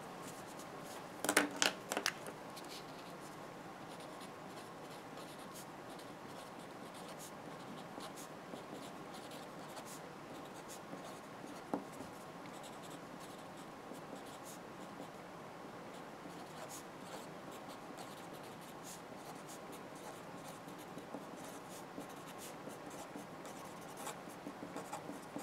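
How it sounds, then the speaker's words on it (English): A pen or pencil writes down a math answer on paper, a faint continuous scratching with small strokes and taps throughout, a couple of slightly louder scrapes near the start. "So what I'm going to write down here"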